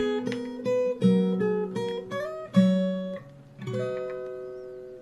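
Fingerstyle acoustic guitar plays the bridge of a Bollywood song, a slow melodic passage of picked single notes and ringing chords with a clear bass line, close and moderately loud, no voice.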